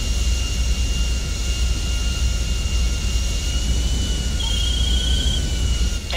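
Airplane engine in GTA Online as the aircraft readies for takeoff, a loud, steady jet roar with a high whine running unchanged throughout, with no speech over it.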